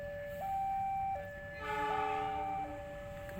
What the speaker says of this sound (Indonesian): ternyata kereta api peti kemas yang sedang berjalan di depan itu